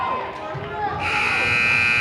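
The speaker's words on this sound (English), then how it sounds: "Buzzer sounds, and that'll do it." A loud electronic buzzer blares midway and sustains, ending a girls' high school basketball game, cutting over the noise of the crowd and an announcer's voice.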